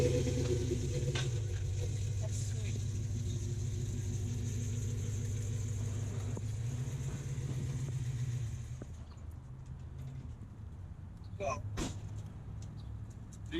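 A 1990 Chevrolet Suburban with a 454 TBI V8 idles outdoors, a low steady engine drone close by that drops in level partway through, with a few faint knocks and clicks after the change.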